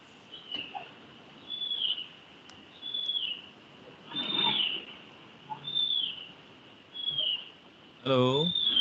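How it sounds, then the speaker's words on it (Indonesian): Small birds chirp and whistle in repeated short high calls roughly every second, faint and somewhat distant, in a room where people gather during a school report-card conference, with a louder call burst near the end. "ini ada suara burung ini"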